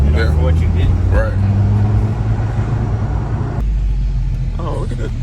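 Mercedes-Benz C43 AMG four-cylinder engine droning steadily at close range while the sedan drives, a low, loud rumble holding throughout with people talking over it.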